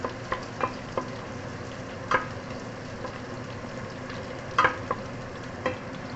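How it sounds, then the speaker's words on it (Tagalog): Garlic fries in a pan with a steady low sizzle, broken by a few sharp clicks and scrapes as it is stirred, close and clear with no talking. "So, fry muna natin yung ating ano guys, garlic."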